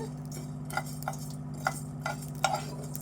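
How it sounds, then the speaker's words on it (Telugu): Fenugreek seeds roast in a pan while being stirred for a drumstick chutney. A few light, evenly spaced scraping clicks sit over a low, steady background hum. "మెంతులు ఏంటంటే రెడ్ కలర్ వచ్చేదాకా ఇట్లా వేపుకోవాలి"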